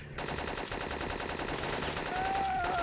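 Rapid automatic M16 rifle fire from the PlayStation game Syphon Filter, a dense continuous burst of shots throughout, loud and close with a rising tone near the end.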